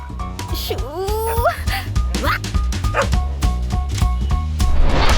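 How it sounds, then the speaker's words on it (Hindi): A neighbour's dog yips and whimpers in short, excited bursts, fairly close, mixed with movie dialogue, music and other background sound. "ये हमारे पड़ोसी मिलिट्री मैन का कुत्ता है"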